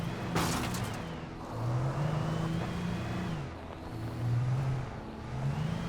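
A car driven in the video game Alan Wake, its engine droning in a low, rising-and-falling whine that climbs and dips as it revs, with a brief clatter near the start and no voices.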